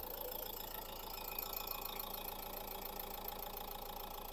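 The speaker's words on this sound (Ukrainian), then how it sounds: "Двигун працює гарно, рівненько." A 2012 Renault Megane 1.5 diesel engine idles steadily with an even, faint mechanical hum and ticking, unchanging throughout, no voices.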